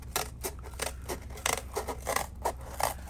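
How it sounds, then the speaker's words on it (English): Scissors cutting cardboard during pin crafting, a quick series of crisp snips and scrapes, close and fairly quiet, with no talking. "Back to my handy dandy scissors."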